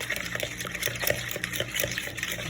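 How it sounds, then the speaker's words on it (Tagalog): Eggs are beaten in a bowl before instant chocolate cake mix is added, giving quick, irregular wet whisking and sloshing strokes close by with no talking. "Ibibit natin muna egg"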